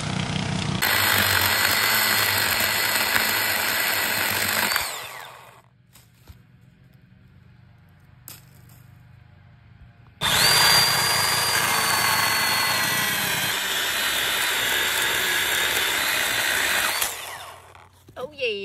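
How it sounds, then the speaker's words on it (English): A small chainsaw runs loud and close in two long bursts, with a quieter idling stretch in between and a brief voice nearby. "I guess I need to go get my baby chainsaw."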